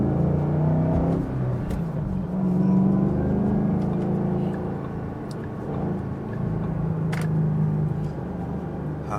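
A 2014 Ford Mustang GT500 pulls away as the clutch is feathered, its engine a loud, close rumble that rises and eases over several seconds with a few sharp clicks.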